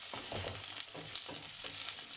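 Yellow pepper frying in oil for a seafood paella, a steady soft sizzle with faint crackles and occasional stirring scrapes, quiet and close, with no talking.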